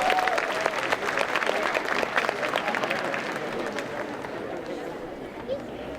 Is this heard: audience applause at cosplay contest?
yes